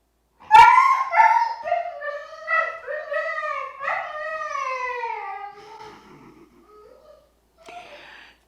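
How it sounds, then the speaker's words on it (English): A husky gives a long, wavering vocal howl that rises and falls in pitch like talking, loud and close, then fades into softer whines with a brief final yip. "Huskies don't bark. They talk."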